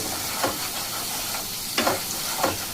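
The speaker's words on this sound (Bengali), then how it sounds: "গ্যাসের ফ্লেমটাকে বাড়িয়ে এখন আমি মশলা কষিয়ে নেব।" Masala spices frying in oil in a pan over a raised gas flame give a continuous sizzling hiss, broken by a few sharp scraping bursts as they are stirred.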